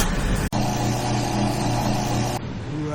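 A Kyosho KC10 RC car with a two-speed kit revs steadily through a drag race, holding a loud, sustained motor whine that cuts off sharply for an instant near the start, then eases slightly lower toward the end.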